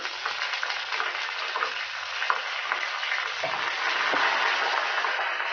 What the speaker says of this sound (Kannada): ಮುರಿದಿಟ್ಕೊಂಡಿರೋ ಒಂದು ಮೆಣಸಿನ್ಕಾಯಿ ಹಾಕೋಣ ಮತ್ತು ಕರಿಬೇವು ಹಾಕೋಣ